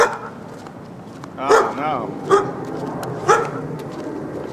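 A dog on a neighborhood walk barks three times in short, sharp yaps, close and loud, with a brief exclamation from a person just before.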